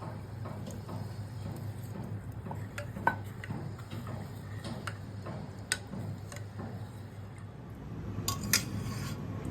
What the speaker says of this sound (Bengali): এবার আমি জল মিশিয়ে দিচ্ছি, দিয়ে ঘোলের মতো করে নেব।